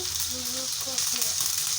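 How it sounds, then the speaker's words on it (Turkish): Tomatoes sizzle steadily in a hot frying pan, a constant crackling hiss with faint bubbling. "Domatesleri de kızartıyoruz."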